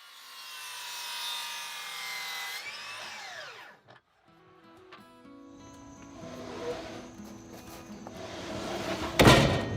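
A power saw cuts through 4x4 wooden posts for a firewood rack: a loud whine winds down, then more grinding and rubbing cuts follow, ending with a sharp burst of noise.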